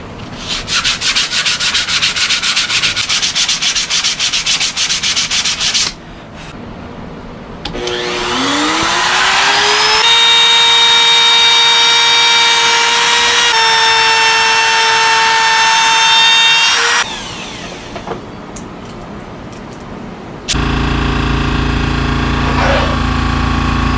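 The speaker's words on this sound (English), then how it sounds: "I'm actually sanding this part right now after I rounded it." A power sander grinds against wood, loud and continuous, with a rising motor whine and rough rubbing texture, stopping and restarting partway.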